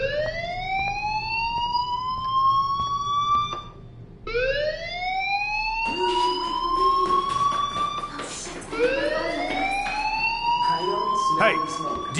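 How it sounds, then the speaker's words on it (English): Fire alarm in the video game Life Is Strange, sounding as a loud siren of repeated rising wails, each sweep climbing in pitch before breaking off and starting again. "do you hear that fire alarm?"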